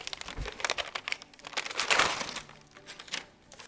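Gold paper is torn and crinkled by hand in quick, uneven bursts of rustling and ripping, close up and fairly loud.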